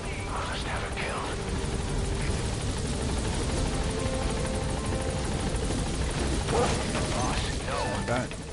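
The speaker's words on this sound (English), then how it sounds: "I'll send the extraction chopper." The extraction helicopter in Metal Gear Solid V arrives with a steady, loud rotor drone and engine roar that runs throughout. Voices speak over it.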